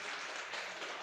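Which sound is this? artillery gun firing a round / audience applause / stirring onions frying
audience applause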